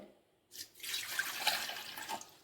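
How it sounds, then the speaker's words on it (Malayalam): A cup of water poured into a mixer grinder bowl makes a brief splashing gush that starts suddenly, runs for about two seconds with a gurgle, then fades. "ഒരു കപ്പ് വെള്ളം ഒഴിച്ചു കൊടുക്കുന്നുണ്ട്"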